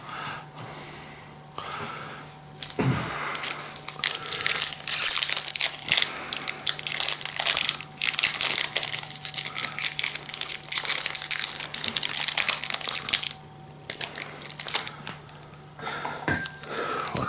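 Foil wrapper of a Magic: The Gathering booster pack being cut open with scissors, a run of close crinkling, snipping and rustling that lasts well over ten seconds with brief pauses.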